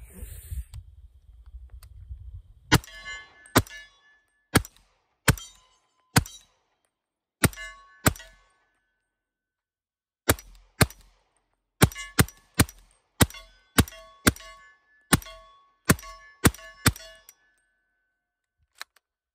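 A .300 Blackout rifle fires SIG 220 grain open tip subsonic match ammo, sharp spaced reports in irregular bursts, fairly faint and distant-sounding, with a low rumble before the first shot and no talking.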